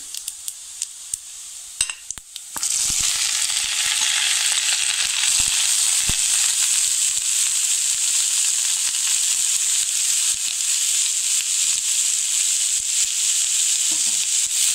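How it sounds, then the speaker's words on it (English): Garlic and onion sauté in a hot pan for scrambled coconut; after a few quiet, faint stirring knocks, a loud, steady sizzle sets in and holds, with occasional soft clicks of stirring. "and saute it for a couple of minutes"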